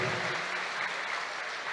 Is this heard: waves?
no